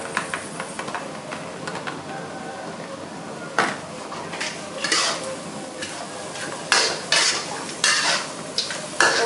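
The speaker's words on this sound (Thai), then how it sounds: "ผัดตามเลยค่ะ" Crab and egg being stir-fried in a pan for curry-powder crab: repeated scraping and clattering strokes of a utensil against the pan over a soft, steady sizzle, growing busier toward the end, close and moderately loud.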